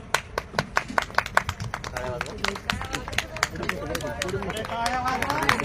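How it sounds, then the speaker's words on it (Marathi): An audience at a poetry gathering during a 2024 festival at Dhammabhoomi, Dehu Road, claps in a burst of close, sharp claps that settle into denser steady applause with crowd murmur underneath. "मी जोरदार टाळ्यांनी प्रथम विनंती करतो"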